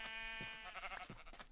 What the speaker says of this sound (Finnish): Täälläkin on sulla lampaita.